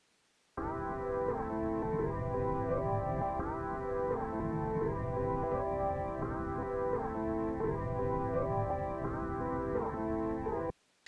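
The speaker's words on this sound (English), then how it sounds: "what you're hearing is actually called aliasing" Low-pass filtered music played back at low sample rates, its sustained harmonic tones smeared with aliasing artifacts that give a garbled, metallic quality; steady and fairly loud for about ten seconds with no talking.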